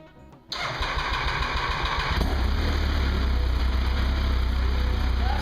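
A Triumph Daytona T595 motorcycle engine cranks and fires up after a quiet moment, then settles into a loud, steady, throbbing idle close by, with no voices over it.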